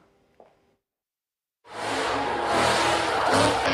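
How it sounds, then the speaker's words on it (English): A faint brief knock, then silence, before a car engine bursts in during a Louisville street racing show, revving loudly and continuously with a rough, roaring growl that stays strong to the end. "Revving engines, cars spinning in circles"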